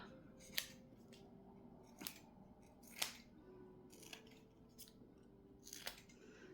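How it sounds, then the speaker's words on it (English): Sharp scissors snip around a felt and paper Christmas ornament, a handful of crisp separate cuts spaced irregularly across a quiet background, close and moderately loud. "for the felt part, I think I'm just gonna trim around."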